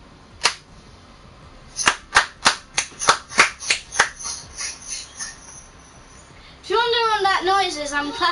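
A single clap, then about ten quick, evenly spaced hand claps nearby, followed by a voice speaking.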